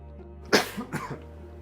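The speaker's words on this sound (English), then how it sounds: "Really sorry about all the coughing." A single close, sharp cough followed by a couple of smaller rasping coughs, then quiet.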